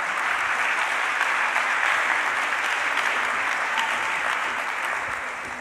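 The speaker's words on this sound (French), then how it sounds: "Je vous encourage à l'applaudir le temps qu'elle me rejoigne." An audience at an award ceremony applauds steadily for several seconds, a dense, even clapping that thins slightly toward the end.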